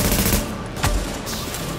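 Rapid gunfire from the video game The Division, a dense burst of shots with a sharp crack near the middle, loud and continuous across the short stretch with no talk.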